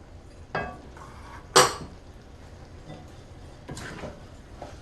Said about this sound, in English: I'm going to stir in the cumin.